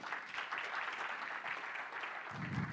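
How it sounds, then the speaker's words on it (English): An audience at an energy tech awards ceremony applauds steadily throughout, a soft, dense patter of many hands heard from a distance. "Let's share a round of applause for him."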